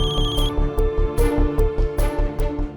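A phone ringtone plays in a domestic drama scene, a bright electronic melody with regular pulsing beats repeating steadily, clear and close with no talking over it.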